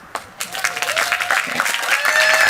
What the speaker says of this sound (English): Your dedication and hard work make a positive difference at this university, and we applaud you